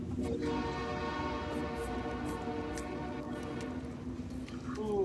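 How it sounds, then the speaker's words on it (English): A train passes with its horn sounding a sustained, chord-like blast throughout, loud and steady over rumbling rail noise, with faint speech in the background. "There's a train up there."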